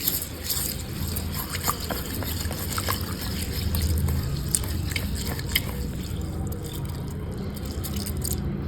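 Soaked lentils are washed by hand in water, giving a steady close sloshing and trickling with scattered drips and small splashes, continuous throughout without talk.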